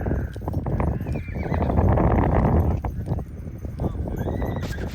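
Mules on a wagon train, a long-paired team, clopping along steadily with repeated whinnies and neighs close by, a busy continuous outdoor bed of hoof and harness noise under it.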